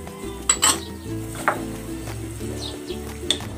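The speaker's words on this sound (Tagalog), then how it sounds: "Ilalagay ko na dito itong kamote, patani, at ang kadyos." Sweet potato, lima beans and pigeon peas are dropped into a simmering pot, with a few clanks and clinks of utensils against the pot over a low, steady cooking hum.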